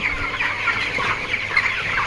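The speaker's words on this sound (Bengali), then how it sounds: "নাক ছিটকায় কাশি দেয় এবং ঘর ঘর ঘর ঘর করে গলার মধ্যে" Chickens with a cold on a poultry farm clucking and making rattling, gurgling throat sounds, a dense continuous chorus of many birds close by, with no voices.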